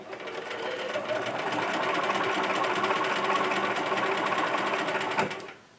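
A sewing machine chain stitches fabric for a beeswax bag prototype, a continuous rapid mechanical whirr running for several seconds and then stopping.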